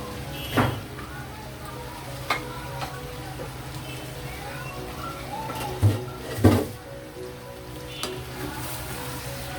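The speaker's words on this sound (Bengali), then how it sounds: "আবারও বেশ কিছুক্ষণ একটু নাড়াচাড়া করে নিব।" Fried potatoes and pointed gourd are stirred into a cooking chicken curry, with occasional scraping knocks of the spoon against the pan over a constant low sizzle.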